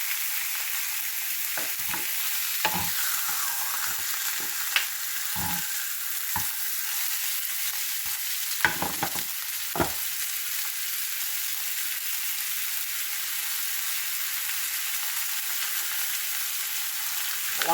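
Food fries in butter in a pan, a constant bright sizzle with scattered clicks and scrapes as pieces are flipped, no voices.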